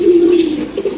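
A racing pigeon at a pigeon loft gives one low, loud coo right up close, lasting about a second.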